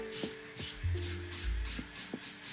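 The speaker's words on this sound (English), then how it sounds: "basically you have to work your way around. Sanding and sanding and sanding." Hand sanding of a foam blade for a LARP-safe two-handed sword, heard as soft, repeated rubbing strokes in an uneven rhythm, close and fairly quiet, with no talking.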